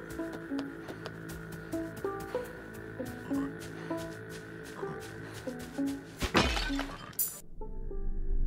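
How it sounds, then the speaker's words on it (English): Pots smash in the video game Windbound, a sharp crash of breaking pottery bursting over a looping background melody with soft thuds, then the music carries on. "Smashing pots, yeah."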